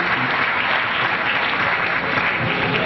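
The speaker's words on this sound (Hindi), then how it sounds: "एक बार जोर से तालियां इसके लिए" A large audience at an alumni gathering breaks into loud, sustained applause, dense and even throughout, with no pauses.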